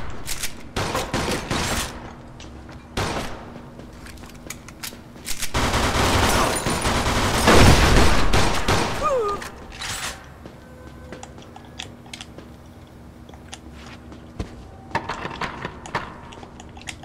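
Gunfire in the video game Mafia II, with scattered sharp shots and bursts, a heavier volley in the middle, and quieter gaps where other game sounds carry on.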